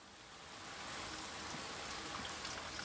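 Steady rain hisses softly and evenly inside the video game Blue Prince, swelling slightly at first and then holding as a constant wash of falling drops.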